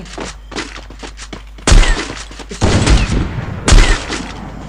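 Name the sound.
sniper gunfire in a video game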